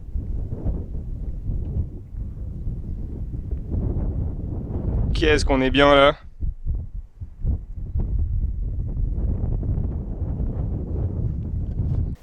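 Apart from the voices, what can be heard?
wind noise on the microphone outdoors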